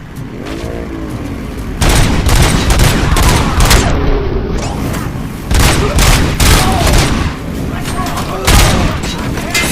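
Bursts of gunfire from thugs in the video game RoboCop: Rogue City, loud repeated volleys with booming impacts across the scene, mixed with game sound effects and some speech-like voices.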